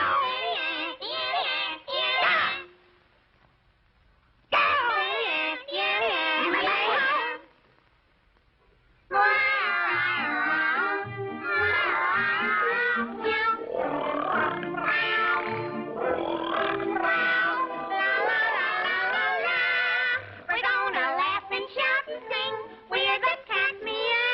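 Many voices meow loudly and continuously in a chorus-like jumble with two short pauses, likely people imitating cats in a 1938 cartoon song.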